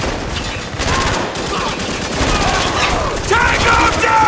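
Heavy gunfire in the war shooter Spec Ops: The Line, loud, dense and continuous, with rapid automatic bursts layered together from start to finish and shouting voices mixed underneath.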